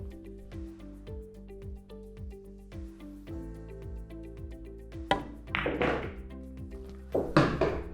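Pool balls knock together on a table in a follow shot aimed at the 6 ball in the corner pocket: a series of sharp clicks and thunks, followed by louder clattering impacts near the end.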